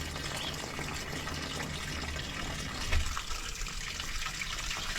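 Water runs from a garden hose suspected of being partly frozen, giving a steady close gush and splash with a brief louder surge midway.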